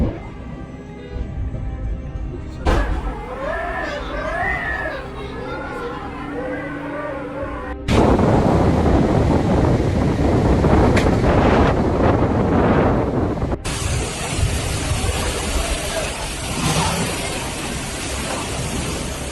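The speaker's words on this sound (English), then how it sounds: "The winds, reaching speeds equivalent to a tropical storm, showed no mercy." Strong gusting typhoon wind roars and buffets the microphone, with waves and rushing water underneath, loud and continuous throughout.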